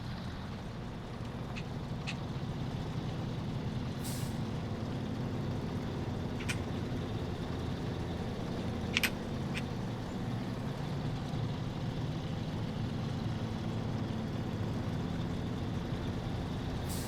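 A truck in the video game Snowrunner grinds uphill on the throttle, its engine a constant low droning rumble held steady for the whole stretch, with a few faint clicks and clanks on top and no talk.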